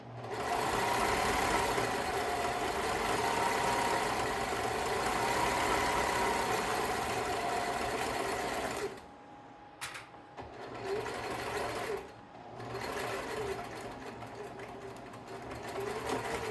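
A sewing machine stitches fabric at close range, humming in a steady rapid run that stops briefly, restarts for a short reverse stitch, and continues more quietly.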